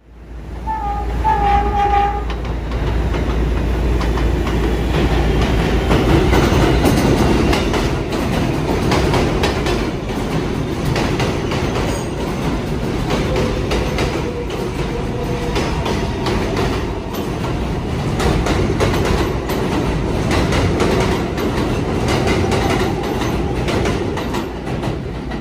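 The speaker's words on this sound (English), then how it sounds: "the next Manhattan-bound L train is now arriving" A Manhattan-bound New York subway L train pulls into Livonia Ave, its loud steady rumble and wheel clatter filling the platform, with a brief horn or tone near the start and rail noise continuing throughout.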